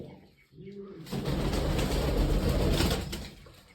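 Polish Lynx pigeons coo once softly, then a burst of wing flapping and rustling takes over as the birds lift off, loud and close for a few seconds before fading.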